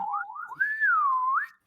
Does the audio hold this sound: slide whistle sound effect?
yes